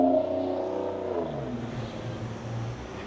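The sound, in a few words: loud cars passing by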